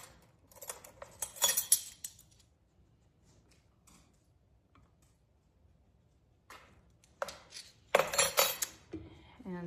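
A utensil mixing egg yolk and vanilla into cookie dough in a bowl, heard as two short bursts of scraping and clinking against the bowl separated by a long quiet gap.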